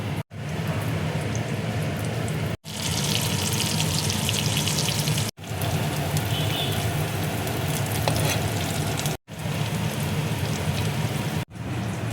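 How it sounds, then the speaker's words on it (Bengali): Besan-coated paneer frying piece by piece in hot oil in a kadai, a continuous close crackling sizzle broken by a few brief pauses, with no talking. "এবার আমি পনিরগুলো এক এক করে তেলের মধ্যে ভেজে নেব।"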